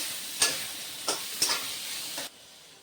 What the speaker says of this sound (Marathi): टोमॅटोही आपल्याला थोडासा भाजून घ्यायचा आहे, थोडासा नरम होईपर्यंत भाजून घ्यायचा आहे